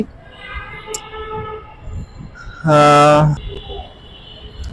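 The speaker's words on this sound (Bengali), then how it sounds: "মেট্রো রেল ক্রস করছি" A metro train passing overhead at Shewrapara rumbles by, punctuated by one loud horn blast lasting under a second, with voices nearby.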